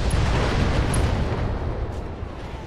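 Mech weapons fire and strike a target in the BattleTech video game, a dense, continuous rumble of explosive impacts that stays loud and sustained and slowly tapers off, with no talking.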